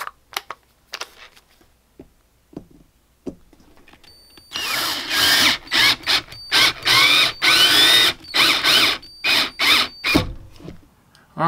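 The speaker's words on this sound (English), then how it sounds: "I'm going to drill this side and put the screw in and lock it down" Following some quiet clicks and handling, a power drill whirs loudly up close in a run of short bursts while drilling for an RV screen door handle, starting and stopping repeatedly with brief pauses.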